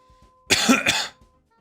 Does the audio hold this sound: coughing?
yes